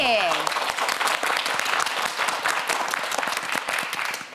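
A television quiz-show studio audience gives a round of applause, many hands clapping in a dense, steady patter right after a short shouted cheer that opens the burst, fading slightly toward the end.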